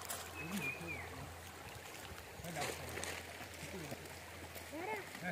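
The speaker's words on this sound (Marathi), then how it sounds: "पाणी इकडे जबरदस्त वाहते तुम्हाला दाखवते बघा. किती सुंदर आणि शांत वाहते बघा." A village river flowing calmly, a soft continuous rush and trickle of moving water heard under a person talking nearby.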